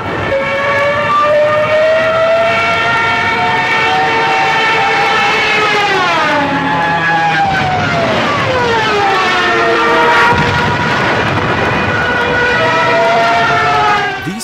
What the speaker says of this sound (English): their distinctive wail, known as the Stuka siren